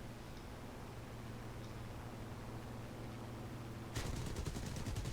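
Aircraft guns firing during a War Thunder dogfight against a BF 109: a steady engine drone gives way to a loud, rapid rattling burst near the end.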